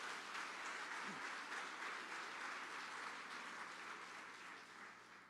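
Sustained applause and clapping from a church congregation praising the King, a dense wash of many hands filling the room steadily for several seconds and easing slightly toward the end.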